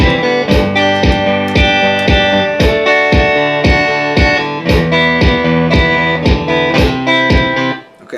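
A looped guitar chord progression with a bright, slightly driven tone. Chords are strummed in a steady rhythm, loud and continuous throughout, then let ring at the end, with no talking.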